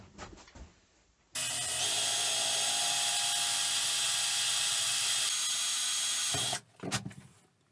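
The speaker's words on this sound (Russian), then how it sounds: "сейчас будем сверлить два отверстия по бокам" A loud, steady high-pitched drill whine runs for about five seconds as two holes are drilled in the sides of a gas canister, with brief clatter and handling sounds before and after.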